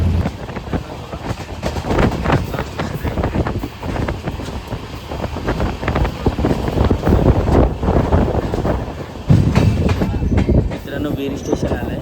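A Konkan Railway passenger train travelling between Borivali and Ratnagiri, recorded from on board: a loud, steady rumble with rhythmic clickety-clack of wheels over rail joints and gusty wind buffeting the microphone throughout.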